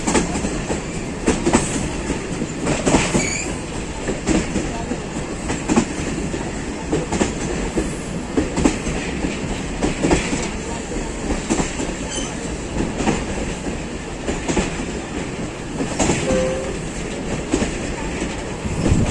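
A train crosses the Jhelum river bridge at very slow speed, with rhythmic clickety-clack of wheels over rail joints and occasional squeals, steady and fairly close throughout, no talking.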